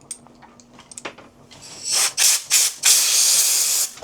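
Compressed air blasts blowing dust off a Florida live oak wood bowl through its holes: a few light mechanical clicks, then three short loud hissing bursts followed by a longer sustained blast, close up.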